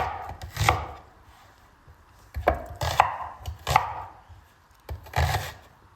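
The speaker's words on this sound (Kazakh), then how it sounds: "Пиязымызды да солай ірі қылып турап аламыз." Pepper and onion are coarsely chopped with a knife on a board, giving close, sharp thuds in irregular bursts with short pauses between them and no talking.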